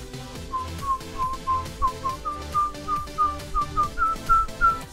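Player anthem from the Rocket League video game, a bright whistled melody of short rising notes in a steady rhythm over a soft beat, with no talking.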